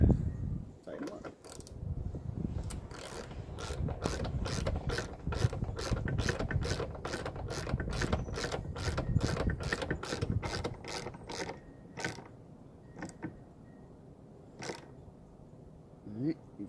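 A ratchet wrench clicks in a fast, steady run while tightening the roof rack screws on a Honda Element, close and loud, then slows to a few separate clicks near the end. A voice speaks quietly under the ratcheting.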